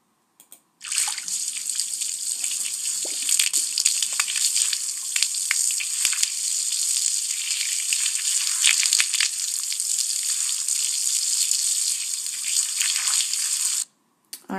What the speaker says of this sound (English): I want you to actually listen to the sound that the spigot makes